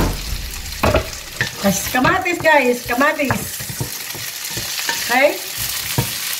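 Tomatoes stir and fry in a pan with a steady sizzle and the scrape of a spoon, while a person talks over the cooking and says a brief word.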